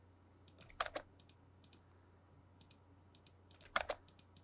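Numbers are typed on a computer keyboard and Enter is pressed, light key clicks in short clusters with two louder, sharper presses standing out, close and quiet, no talking.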